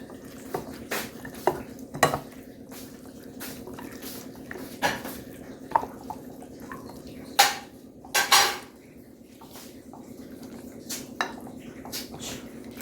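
Chilli powder, coriander powder and yogurt being mixed into chicken in a bowl, with a spoon making scattered close clinks and soft wet scraping over a low steady hum, and no voices.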